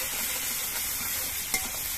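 Ground ginger and green chili spice paste frying in oil in a pan, giving a steady, close, even sizzle with a faint scrape of stirring partway through.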